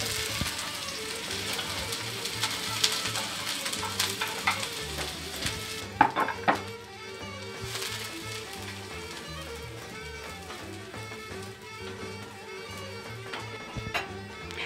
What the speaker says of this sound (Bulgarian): Лука, ориза, всичко ще се запържим и така ще го напълним.